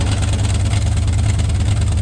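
A Chevy C30 truck engine idles steadily and loud up close, a low, even rumble with no voices.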